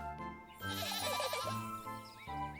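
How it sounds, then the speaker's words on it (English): A small fluffy goat in the Little Goody Two Shoes video game lets out a loud, wavering bleat over soft game music, the quavering call lasting about a second and a half before the music returns alone. "It's a little fluffy goat."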